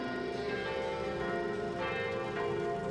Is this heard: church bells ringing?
yes